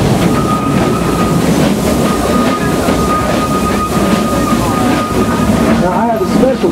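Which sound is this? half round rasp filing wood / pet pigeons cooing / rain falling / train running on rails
train running on rails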